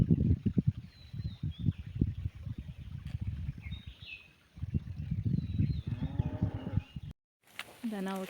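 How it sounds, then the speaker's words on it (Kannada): Cows drinking at water moo again and again, loud and close, with faint birdsong behind. A brief silence comes near the end, then a final moo. "ಹಸುಗಳು ನೀರು ಕುಡಿತಾ ಇದ್ದಾವೆ."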